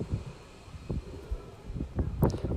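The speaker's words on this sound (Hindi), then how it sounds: "देखिए क्या मौसम हो रहा है यहाँ पर, क्या हवा चल रही है" Wind gusts buffet the microphone outdoors at a hilltop Jain temple with a large single-stone statue, producing uneven low rumbling and rustling bursts throughout.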